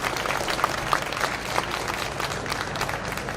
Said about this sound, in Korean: 두 분께 큰 박수 한 번 더 보내드리면 좋겠습니다.